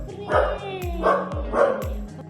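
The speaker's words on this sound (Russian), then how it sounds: "Собака-убийца, это не ты, Лайс." A dog barks three times in a steady, loud rhythm, each bark followed by a low tonal whine, close to the listener with faint room noise between.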